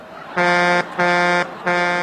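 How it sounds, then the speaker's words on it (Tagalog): A vehicle horn honks three times in even, evenly spaced blasts, loud and close, with a short quiet gap between each. "Oh, busina uli."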